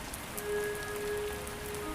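Steady rain falling as an animatic sound effect, a soft even hiss of drops on a surface, continuous and moderate with no voices.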